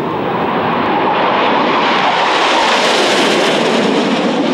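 A Soviet jet interceptor from the 1950s roars past, a loud, dense engine rush that holds steady and shifts in tone as the aircraft moves, with no talk over it.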